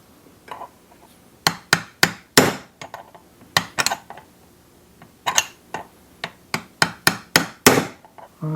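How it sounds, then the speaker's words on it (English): Sharp metallic taps of a hammer striking a chisel to loosen the clutch on a Husqvarna 365 chainsaw ring out in irregular bursts, some doubled, close and loud against a quiet background. "we're just going to try to tap this with a hammer and chisel"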